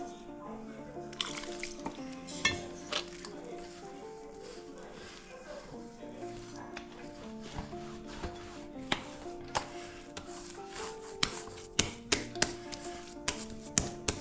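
Hands kneading stiff thalipeeth flour dough in a home kitchen, soft rubbing and squishing with occasional taps against the bowl, quiet and close over background music.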